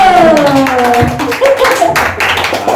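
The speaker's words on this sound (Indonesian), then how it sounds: "Kita tepuk tangan dulu." An audience at a church youth talk show with games and prize giving claps hands, a short burst of close, uneven claps, with a voice briefly audible through it.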